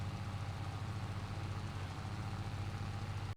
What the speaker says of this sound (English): With a John Deere tractor, and it's got a classic shape